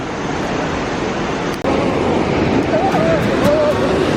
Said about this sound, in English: mighty river that I was talking about